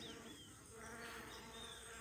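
Quiet, steady buzzing of stingless bees, a faint continuous insect drone with a few brief pitch sweeps from passing bees, no talking.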